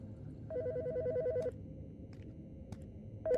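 A phone ringing in the horror video game Autopsy Simulator, an electronic warbling trill in two bursts, one long ring and another starting at the end, with faint clicks between against quiet room ambience.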